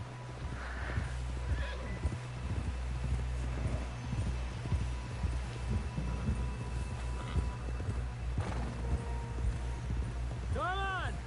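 Horse galloping in the Red Dead Redemption video game, hoofbeats thudding in a steady rapid rhythm over a low droning score, with a whinny near the end and voices talking over it.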